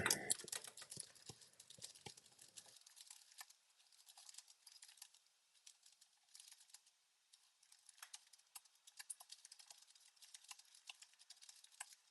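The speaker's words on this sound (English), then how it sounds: "I'm just typing in some information right now" Typing on a computer keyboard: quick, faint, irregular key clicks in bursts and short pauses, recorded close and quiet with no talking.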